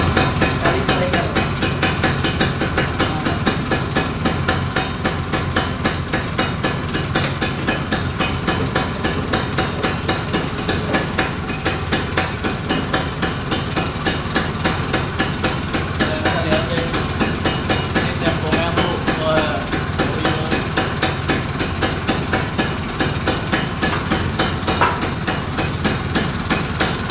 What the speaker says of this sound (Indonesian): saya mau hidupin Vespa yang tahun 76